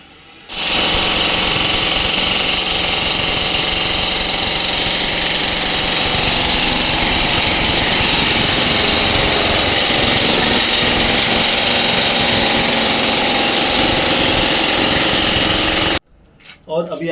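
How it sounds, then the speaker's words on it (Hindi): A drill machine breaks up a concrete lintel during demolition of an old house, a loud, continuous hammering roar that runs close and unbroken for about fifteen seconds before cutting off abruptly. "वो ड्रिल मशीन से काट रहे थे।"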